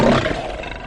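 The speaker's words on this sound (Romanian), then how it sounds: "că e tigru în fața liftului" A tiger roars loudly and close, one sustained, rough, powerful roar that fills the whole moment and trails off slightly, with no talking over it.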